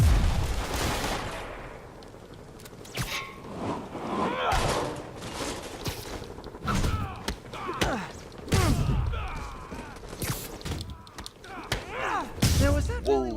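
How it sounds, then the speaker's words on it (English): Gunfire comes from several vehicles in the Marvel's Spider-Man (2018) video game, heard as scattered bursts and thumps mixed with game voices, crashes and action effects, loud and uneven throughout. "All units, we have reports of gunfire coming from multiple vehicles."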